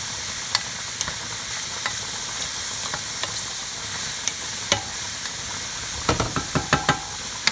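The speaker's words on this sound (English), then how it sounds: "I'm just going to give it a quick little stir." Onion simmering and sizzling in a pan while a utensil stirs it, giving a steady hiss with scattered scraping clicks that cluster into a quick run of taps near the end, up close and without voices.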